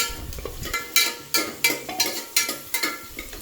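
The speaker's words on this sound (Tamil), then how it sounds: "எங்கள் அம்மா எண்ணெய் ஊற்றி கடுகு, உளுந்தம் பருப்பு, கருவேப்பிலை அண்ட் தென் பட்டை வத்தல் போட்டு தாளிச்சிட்டாங்க" Mustard seeds, urad dal, curry leaves and dried chillies crackle in hot oil in a home kitchen, with sharp rhythmic scraping and clinks of a ladle against the pan, close and fairly loud.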